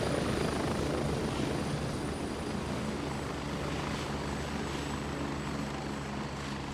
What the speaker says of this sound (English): I figured that the helicopter sound and the music doesn't mix very well